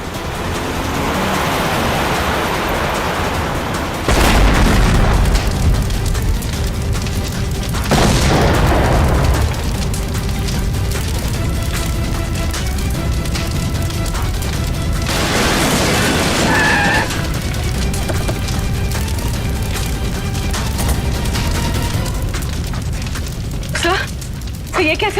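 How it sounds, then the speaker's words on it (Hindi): A car bomb goes off in a crime drama, with several loud deep booming blasts that roll out across dense dramatic background sound and music. "लगता है इसकी गाड़ी में किसी ने बॉम्ब फिट कर रखा था।"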